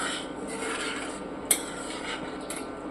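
Spoon stirring rajma curry with cumin and spice powders in a pan, a continuous close scraping and rubbing sound with a brief sharp clink of metal midway.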